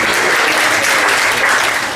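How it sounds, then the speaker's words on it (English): Comedy club crowd at the Edinburgh Fringe gives a loud, sustained round of applause, a dense steady clatter of many hands close by, with no voices breaking through. "Give her a round of applause,"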